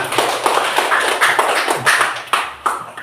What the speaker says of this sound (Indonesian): Ya, kasih tepuk tangan.